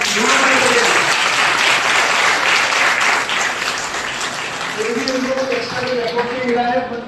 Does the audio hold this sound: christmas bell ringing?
no